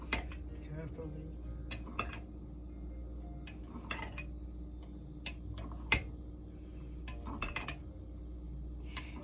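A spoon stirs pineapple salsa in a bowl, giving scattered light clinks and taps against the dish over a quiet background hum, close and gentle, without speech.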